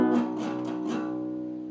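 Electric guitar plays a full strumming pattern on the low strings, several quick strummed attacks in the first second, then a sustained ringing chord that slowly decays, close and alone.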